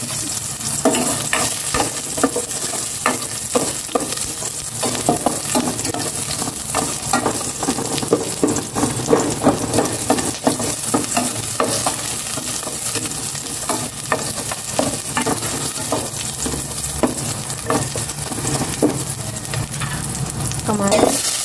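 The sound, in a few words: sautéing garlic and onion in a pan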